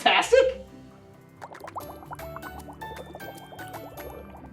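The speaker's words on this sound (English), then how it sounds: "So when the two react, the fizzing begins." Fizzing Christmas tree chemistry experiment releasing carbon dioxide: a loud splash or pour at the start, then a steady crackle of tiny popping bubbles that stays fairly faint and close.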